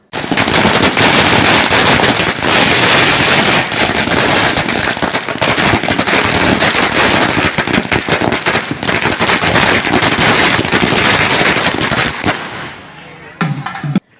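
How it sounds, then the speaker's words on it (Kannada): A long, loud, dense barrage of firecrackers at a village goddess festival in Hairige, HD Kote, crackling and popping in rapid continuous bursts, tapering off into a few final bangs near the end. "ಪಟಾಕಿ ಶಬ್ದ ಹಬ್ಬದ ಸಂಭ್ರಮವನ್ನು ಇಮ್ಮಡಿಗೊಳಿಸಿತ್ತು"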